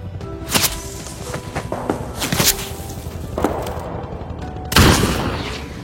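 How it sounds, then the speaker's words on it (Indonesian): Several sharp gunshots crack at irregular intervals, with one louder, closer blast near the end over a faint background. "Alan berhasil melihat percikan senapan Juba dan dia membalas tembakan itu."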